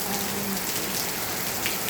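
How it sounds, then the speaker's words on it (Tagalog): Heavy rain pours down steadily in the Philippines, a dense, loud, unbroken hiss of drops with no voices over it. "Ang lakas ng ulan."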